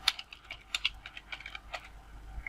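Short phrase typed on a computer keyboard, a steady run of light, close key clicks spaced irregularly, fairly quiet over a faint background hum, without any speech.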